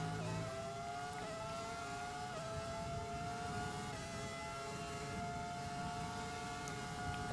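Formula 1 car engine in the racing game F1 2020 with an F1 2003 career mod, a steady high-pitched whine that climbs and steps between gears while overtaking, heard up close without talk.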